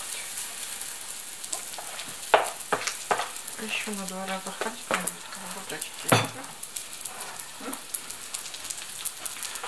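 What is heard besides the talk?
semolina pancakes sizzling in frying pan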